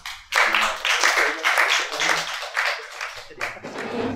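Audience applause at an award ceremony with recipients posing for photos, a dense, fairly loud burst of many people clapping, swelling and pulsing unevenly before easing.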